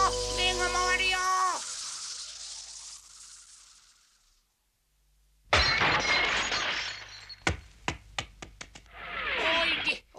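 A glass window shatters after being struck by a ball in an animated ninja cartoon, a loud crash of breaking glass followed by tinkling shards, then a pause and sharp knocks with voices.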